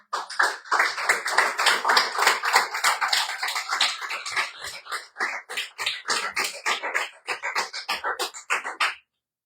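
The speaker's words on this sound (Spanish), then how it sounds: "Que le da un aplauso al Señor." A church congregation claps in a dense, sustained burst of many hands, loud and close, with a brief dip midway before the applause picks up again and stops cleanly.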